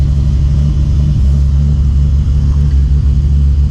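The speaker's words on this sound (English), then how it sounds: "the cold starts never get old" A Toyota Supra fitted with a new turbo idles after a cold start, producing a loud, steady low rumble with a slightly lumpy pulse close by and no voices.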